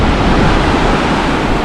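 Pacific Ocean surf rushing onto a beach beside an airport, a continuous loud wash of breaking waves roaring close by, with wind buffeting the microphone.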